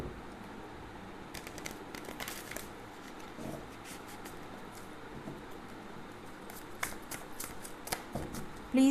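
Tarot cards being shuffled by hand, soft papery riffles and slides in short bursts that come and go, close but quiet, with no talking.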